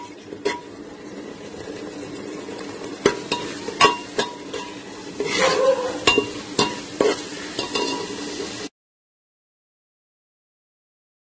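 Masala for a crab curry fries in oil while a spoon stirs it, sizzling steadily up close. Repeated scrapes and knocks of the spoon against the pan come throughout, then the sound cuts to silence.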